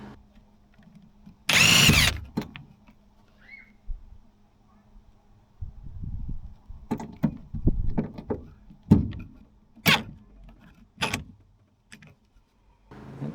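A power drill drives screws into boat flooring in short separate bursts: one long loud whir near the start, then several brief sharp spins and knocks spread across the stretch, with faint background noise between.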